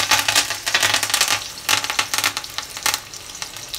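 Curry leaves fry in a kadhai of hot oil for poha, giving a loud, close, crackling sizzle full of rapid spits and pops that surges and eases over a few seconds, with no talking.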